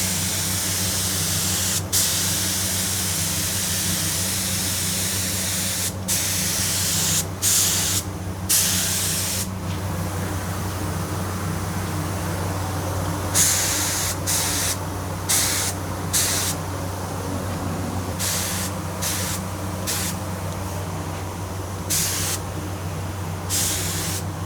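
Spray gun laying finish coats on a Flying V guitar body, a loud, continuous airy hiss broken by short on-off pauses in the trigger, over a steady low hum.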